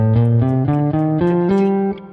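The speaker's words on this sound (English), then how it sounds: "so before our minor scale sounded like this," A guitar plays a natural minor scale as a quick run of about eight single notes rising stepwise, clean and close, each note ringing briefly into the next.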